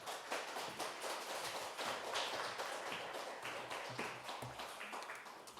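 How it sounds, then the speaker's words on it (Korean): A church congregation at a mission Sunday service claps to welcome a visiting missionary from Texas, a dense, steady wash of many hands sustained throughout at moderate loudness. "우리 박수로 맞이하겠습니다"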